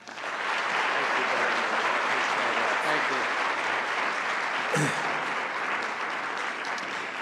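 Sustained applause from an audience in a historic university chapel welcoming the University of Georgia's 22nd president, steady dense clapping that fills the space from start to finish.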